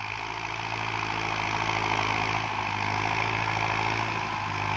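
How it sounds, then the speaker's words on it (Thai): Several Kubota tractors, including an MU5702 with a disc plow, work rain-soaked rice fields in the morning, producing a steady, continuous engine drone at moderate distance with no talking. "ตอนเช้ามารถไถเต็มทุ่งเลยครับ"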